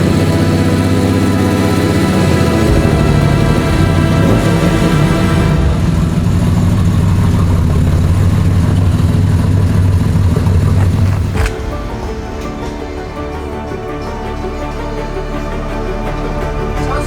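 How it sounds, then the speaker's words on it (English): An air-cooled Porsche 911 SC engine idles steadily and loud with a rough, choppy low rumble, then drops to a quieter idle partway through; no talking. "the engine are it's very, very choppy on idle, very choppy"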